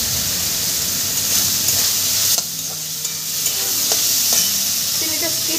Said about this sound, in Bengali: হাতে দিয়ে সুন্দর করে চিকেনটা কষিয়ে নেবে